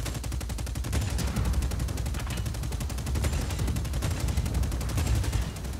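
A tank in Just Cause 4 fires its minigun in a dense, continuous rattle, with heavy rocket blasts mixed in, loud and sustained for nearly six seconds without a break.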